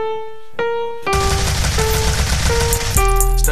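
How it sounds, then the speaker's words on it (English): Rapid bursts of gunshot sound effects in an East Coast rap song, a dense volley of gunfire crashing in over the beat and music and continuing loudly for several seconds. "When them gunshots coming in."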